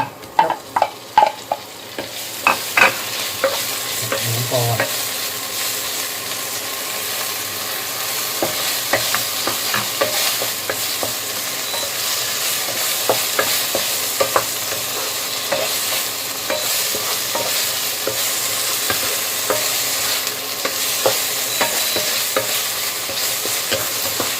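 Thai fried rice with naem, a fermented pork, is stir-fried in a pan. A spatula scrapes and stirs rhythmically over a steady, close sizzle, with sharp clanks near the start.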